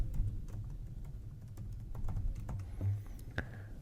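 Someone types an SSID password on a computer keyboard, producing a steady run of soft, quick key clicks close by with a faint low hum behind them.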